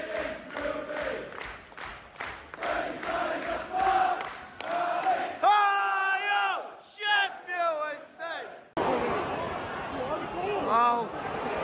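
Football crowd in a stadium at Sheffield Wednesday versus Leicester City, rhythmic chanting and roaring from many voices, loud and close, with someone talking over it partway through.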